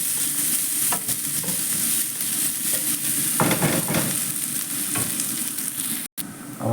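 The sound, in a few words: onions and raisins frying and being stirred in a pan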